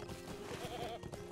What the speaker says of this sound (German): Da ist noch eine Ziege, eine Klippenziege